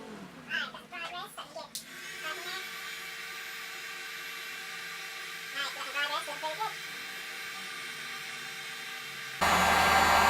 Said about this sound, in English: So we're gonna go ahead and set up that heat gun and let's get to it.